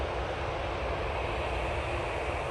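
A Jet2 Airbus A321neo airliner gives off a steady, broad engine roar that holds at an even level from a moderate distance, with no voices over it.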